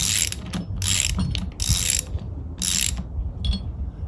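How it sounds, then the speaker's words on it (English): A folding propeller nut is screwed onto its shaft threads with blue Loctite, giving four loud, close bursts of rapid ratchet-like clicking separated by brief pauses. "And we screw it in."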